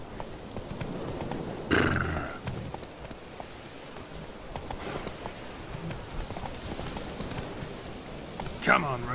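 Roach, Geralt's horse in The Witcher 3: Wild Hunt, galloping with clip-clop hoofbeats, a snort or whinny and a sharp burst near the end, over a rainy ambience with someone speaking.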